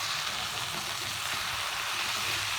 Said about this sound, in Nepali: नुन र बेसार चाहिँ सबैतिर लाग्ने गरी राम्रोसँग भुट्ने चलाउने।